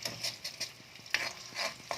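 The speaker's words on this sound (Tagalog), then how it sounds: "Next natin ipiprito ay yung saging na saba." Saba bananas sizzle faintly in hot oil while a utensil scrapes and stirs the pan in short, quick strokes.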